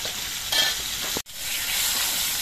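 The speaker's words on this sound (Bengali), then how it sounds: "পটলটা ভাজতে একটু সময় লাগবে।" Slices of pointed gourd (potol) fry in hot oil with a steady, close sizzle, briefly cut off by a moment of silence before the crackling frying resumes.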